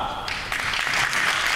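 A short burst of audience applause at a CEO panel event, starting lighter and swelling into fuller clapping partway through.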